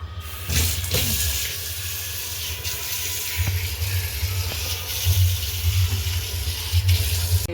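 Water runs from a kitchen tap into a sink, a continuous close gushing and splashing with a low rumble, steady throughout without talk.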